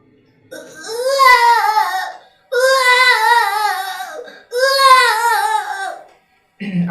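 A voice mimics a child crying, with three long wailing sobs that rise and fall, separated by short pauses, loud and close.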